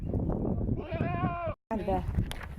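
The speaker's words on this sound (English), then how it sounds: "Should we take a picture with this random goat?" A goat bleats loudly and close by, one long wavering cry, then a shorter bleat after a brief gap, with people chatting over and around it at a beach party in Entebbe, Uganda.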